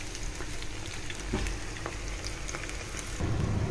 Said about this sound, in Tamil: நம்ம பொரிச்சு எடுக்கணும்.